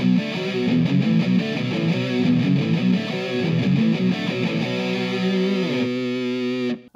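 A distorted electric guitar plays a riff in parallel fifths, choppy notes giving way to a few sustained ringing chords before stopping.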